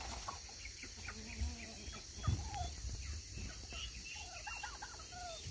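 A large chicken gives a few soft clucks close by, with faint background noise and brief low thumps between the calls.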